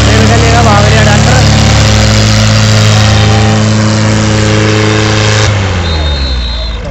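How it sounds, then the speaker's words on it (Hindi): A loud Mahindra 575 DI XP Plus tractor engine roars steadily at high revs in a tractor contest against a Swaraj 855, droning throughout before easing slightly near the end. "फिर चलेगा भाग रहा ट्रैक्टर"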